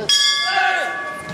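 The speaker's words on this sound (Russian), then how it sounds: "Гонг, бойцы расходятся снова на перерыв." A single bright gong strike ends a round in an MMA fight, ringing out with a metallic shimmer that fades over about a second under arena noise.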